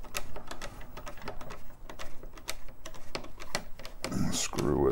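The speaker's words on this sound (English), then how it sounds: "The screw is slowly turning up out of there." A screw is turned out of the case of a TRS-80 Model I computer, giving soft rapid clicking and creaking ticks close up, with a voice speaking at the end.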